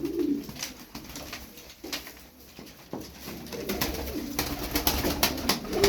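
Game pigeons kept by a fancier coo repeatedly in low, soft rolling calls, close by, with faint background rustle and no talking.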